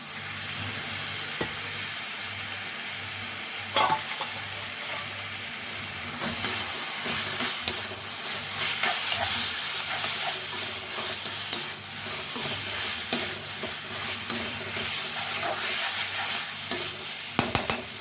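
Quail pieces with masala sautéed and stirred in a pan for a chilli fry, giving a steady, close sizzle with scraping spoon strokes throughout and no talking.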